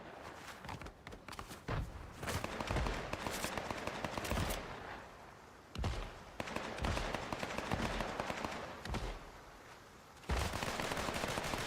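Twin SMGs fire in Fortnite in repeated rapid bursts of sharp, crackling shots, with short pauses between volleys, loud and close over faint game ambience.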